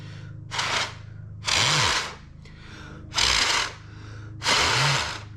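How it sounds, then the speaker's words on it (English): Breath blown onto the vanes of a compound bow arrow makes four close, breathy gusts of air, each a short whooshing burst with faint rumbling between them. "I'm gonna come to my veins, and I'm gonna give it a blow."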